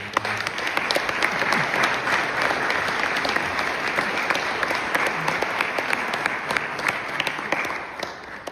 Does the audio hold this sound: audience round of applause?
yes